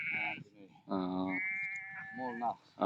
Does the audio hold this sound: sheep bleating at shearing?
yes